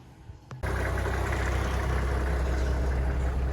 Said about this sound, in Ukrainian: Бачите, як просто з пів оберта заводиться.